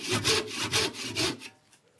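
Hand saw cutting through wood while making a stool with a woven seat; four close, rhythmic rasping push strokes, then the sawing stops and fades to quiet.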